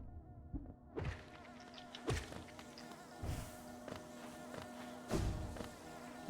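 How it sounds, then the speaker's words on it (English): A dense swarm of buzzing bees in Hollow Knight, a continuous insect drone with scattered soft thuds and clicks from the game, steady and close with no talking. "So there's a shit ton of bees here, which actually is a hint to what might be around."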